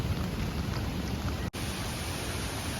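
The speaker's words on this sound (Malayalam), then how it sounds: "ഓ മഴ പെയ്യാൻ തുടങ്ങി" Steady rain falling in the monsoon hills of Idukki, a dense, even hiss that fills the scene without a break apart from one brief dropout midway.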